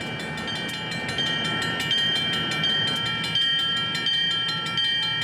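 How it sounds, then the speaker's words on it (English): A long CP transfer freight train of over 100 cars, including about 50 hopper cars loaded with North Dakota wheat, rolls steadily past in Superior, its loud continuous rumble marked by repeated rhythmic wheel clacks and metallic squeals. "This transfer train has over 100 cars, including a group of 50 hopper cars filled with North Dakota wheat."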